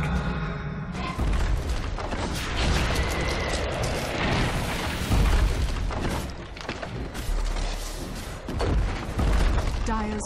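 Barracks destroyed during a Dota 2 match in a dense stretch of booming impacts, bursts and crackling effects that pile up loudly over game action, with a voice talking over the fight.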